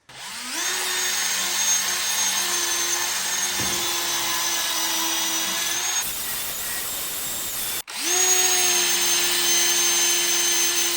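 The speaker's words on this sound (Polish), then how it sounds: "Także biorę wkrętarkę, biorę tarczę, i zacznę sobie od tego miejsca." A cordless drill fitted with a disc strips paint from a Suzuki GN250 motorcycle engine, a loud steady whine running continuously, cutting out briefly near the end before spinning back up close by.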